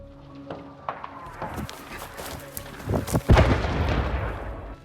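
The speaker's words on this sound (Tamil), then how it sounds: "மியான்மர் அரசு வெடிகுண்டு வீசி தாக்குதல் நடத்தியிருக்கிறது" Bomb explosions from attacks in Myanmar: scattered sharp bangs and cracks build into heavy, rumbling blasts, moderately loud and somewhat distant, layered over a noisy background.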